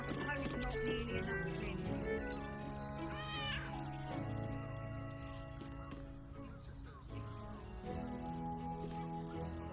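Cat meowing in the Baldur's Gate 3 video game, several drawn-out, fairly loud mews and a rising whine under background game music.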